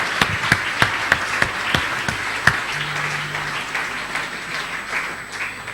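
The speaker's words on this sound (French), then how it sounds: "Nous allons l'applaudir un instant." A church congregation claps in praise during a worship service, a few sharp distinct claps at first, then softer scattered applause continuing in the room.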